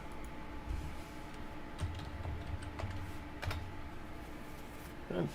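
Typing on a computer keyboard into a search bar: scattered, fairly quiet key taps over a steady background hum from a computer running hot, with no voice.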